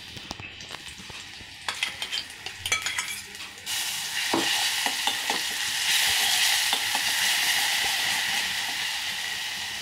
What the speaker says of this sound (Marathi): त्यातलंच 1 चमचा थोडेसे आपण या तेलात घालणार आहोत फोडणीला